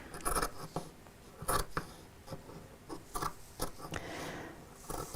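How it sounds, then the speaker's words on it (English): Scissors snip through fabric to cut out a patch pocket at a sewing table, producing a series of sharp, close crisp cuts spaced irregularly over a few seconds, with no voice. "And let's just cut down this side."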